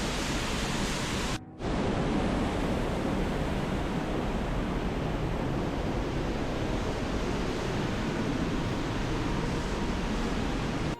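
Creek water at Silver Falls State Park rushes with a loud, steady broadband roar that stops for a moment near the start and then runs on without a break.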